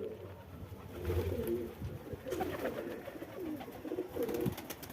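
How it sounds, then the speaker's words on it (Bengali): Pigeons in a home loft, one an old bird sitting on eggs, give low, rolling coos that rise and fall in overlapping phrases, moderately close and steady against a quiet background. "এই যেখানে ডিম নিয়ে বসে আছে একটা এটা অনেক পুরনো কবুতর"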